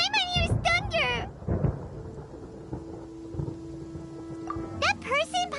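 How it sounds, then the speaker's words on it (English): Thunder rolling in the Genshin Impact video game, a low distant rumble heard in the quiet stretch between bursts of high, chirpy character voices at the start and end. "Paimon hears thunder!"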